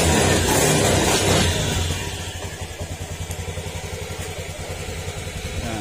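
A motorcycle engine starts and runs after a CKP sensor replacement, a loud rev in the first seconds dropping to a steady, slightly uneven idle with rhythmic pulsing.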